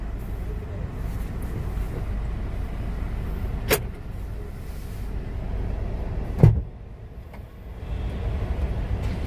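A car idles and moves at a vehicle checkpoint, a low steady engine rumble with two sharp clicks or thuds, and a brief louder bump near the end.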